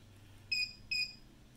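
Two short high-pitched electronic beeps from a 36 volt 1500 watt inverter alarm as the unit shuts off, each about a fifth of a second long and evenly spaced over a faint low hum.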